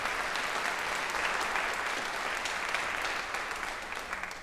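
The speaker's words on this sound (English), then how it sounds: "Let's give another round of applause for Mr." A middle school jazz ensemble concert audience gives the band and its director a round of applause, steady dense clapping throughout that tapers slightly at the end.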